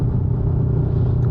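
A Kawasaki Ninja 300 motorcycle fitted with an aftermarket exhaust idles steadily nearby, a low, even, throaty rumble with a moderately loud, tasteful tone and no revving.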